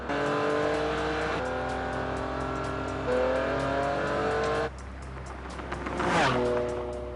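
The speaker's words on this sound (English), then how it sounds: "pushing his Ferrari to nearly triple the speed limit" A Ferrari Enzo sports car accelerates hard at high speed on a closed-off interstate, its engine note climbing and dropping through several gear shifts before a loud rushing pass, strong and continuous throughout.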